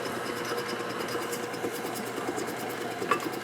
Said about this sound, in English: Poor little KitchenAid working so hard